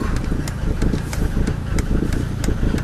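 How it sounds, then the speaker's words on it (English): A 1990 Mercedes 300D diesel engine idles roughly after a cold start, a steady close-up clatter with uneven low rumbling pulses and regular sharp ticks. "So, rough idling and smoke"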